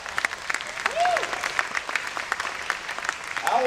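Audience applause at a political convention: a sustained round of clapping from a crowd, moderately loud, with whistles and a voice or two rising over it.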